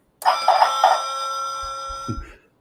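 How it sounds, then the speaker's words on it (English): A push-button bell fitted to an Agora Models Routemaster bus model gives a few quick bright dings, then a single ringing tone that holds and fades, followed by soft clicks of the button near the end, close and clear in a quiet room. "That's the push button bell there."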